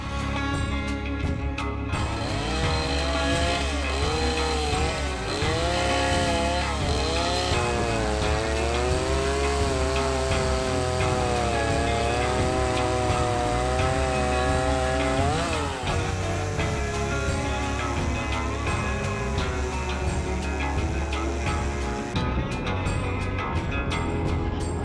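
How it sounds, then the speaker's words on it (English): A chainsaw engine runs loud and close the whole time, its pitch rising and falling as it revs while cutting through a fallen tree. "So I'm just getting the chainsaw out, gonna get it gassed and oiled."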